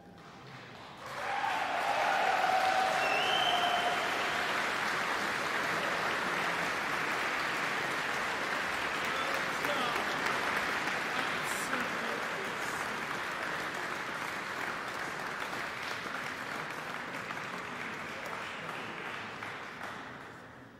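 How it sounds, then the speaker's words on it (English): Audience at a choral competition gala applauding prize winners, a broad sustained roar of clapping that starts abruptly, holds steady for a long stretch and slowly tapers, with a brief voice near the start. "could I have a representative and a huge round of applause for the second prize winners?"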